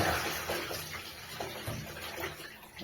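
Water gushes and splashes continuously as an old electric water heater tank is drained, a dense, steady rushing flow with no pauses.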